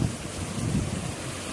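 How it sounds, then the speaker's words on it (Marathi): A heavy rainstorm with strong wind sweeps through a rural landscape, producing a dense, steady roar of rain with low rumbling gusts, loud and close throughout, with no one speaking. "खूप जोराचा पाऊस चाललाय"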